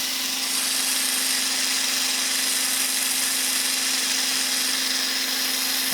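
HYTORC torque gun tightening a centerlock wheel nut on a Porsche: a steady, close mechanical hum with a strong constant tone running unbroken through the whole span, no voices.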